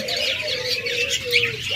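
A breeding pair of pet birds in a cage, including a pure white albino lovebird, gives a steady stream of soft chirps and warbling calls close by, with no talking.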